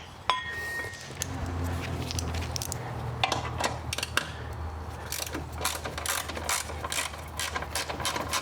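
Ratchet clicking and metal clinks while a bolt is worked off the drive system of a Troy-Bilt Vortex Tracker 2890 walk-behind snow blower, with bursts of close, sharp mechanical ticks over a low steady hum.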